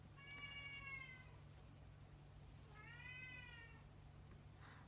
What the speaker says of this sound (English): There goes my kitty